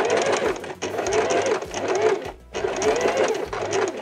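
Sewing machine running a gathering stitch along a sleeve seam allowance, with steady fast whirring bursts broken by short pauses, close and loud.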